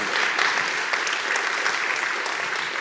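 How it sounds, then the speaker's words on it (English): A book festival audience claps warmly for a woman in the crowd, a dense, even round of applause filling the whole moment without speech. "clap for Janine"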